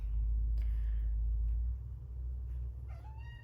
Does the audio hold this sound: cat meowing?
yes